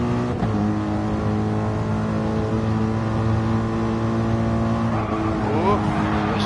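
Race cars run side by side in a Le Mans 24 Hours endurance race in a racing video game, Mercedes cars among them, a steady loud layered engine drone with sustained whining tones, continuous throughout, a voice speaking over it at times.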